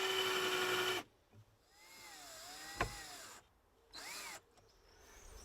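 A power drill drives stainless steel screws into cedar wood for a garden seat, a loud whirring burst at the start, then shorter bursts later separated by quiet gaps.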